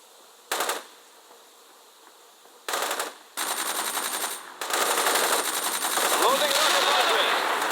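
Automatic gunfire from the real-time strategy game World in Conflict: short rattling bursts that grow into sustained, continuous machine-gun fire, fairly loud, with battle noise layered underneath.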